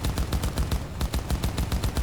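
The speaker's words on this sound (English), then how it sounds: "Here are my ones who are practicing their gunfire." Rapid gunfire in the video game Cyberpunk 2077, a regular burst of sharp automatic shots at an even fast rhythm, moderately loud with no talking.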